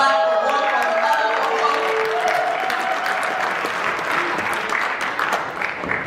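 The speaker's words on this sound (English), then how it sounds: "You can clap for one or the other." A crowd at a Black History Month celebration bursts into loud, sustained applause, thick continuous clapping with some voices and cheering mixed in at the start before the clapping slowly thins.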